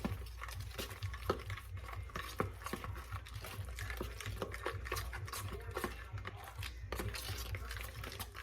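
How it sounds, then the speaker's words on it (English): Dumpling dough of flour and milk being stirred in a bowl, giving a steady run of soft, wet scraping and patting strokes at close range, with occasional light clinks of a utensil and no talking. "So what we want to do is mix these 2 ingredients up."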